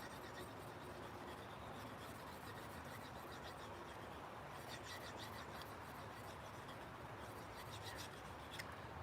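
Steel blade drawn over a 1000 grit sharpening stone, a steady continuous rasping scrape with brief brighter strokes toward the end, close and moderately loud with no talking.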